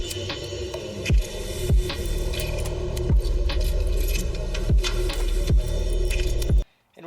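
Thin metal line is bent by hand during a 2JZ Subaru roll cage and strut tower build, producing a series of sharp metallic clicks and creaks about every half second to a second. The sounds ring over steady background noise and end abruptly.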